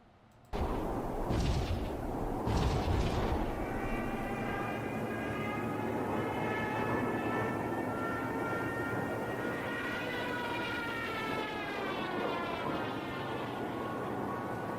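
Massed engines of WWII bombers on a bombing run drone steadily and loudly throughout, a low rumbling roar with rising tonal whine, preceded by a couple of sharp booming impacts near the start.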